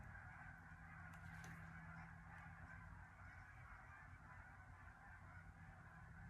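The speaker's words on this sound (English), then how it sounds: "there's a shit ton of geese flying over right now." A flock of geese honks continuously from a distance, layered calls blending into a steady, faint chorus overhead.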